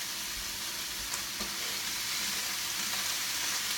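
Chicken frying in a pan, a steady, loud, close hiss and sizzle with faint crackles throughout, no talking.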